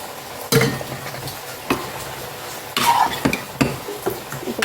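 Washed cauliflower fries with chilli powder masala and salt in a pan while a spoon stirs it: sharp scraping clacks against the metal come at irregular intervals over a soft, low sizzle.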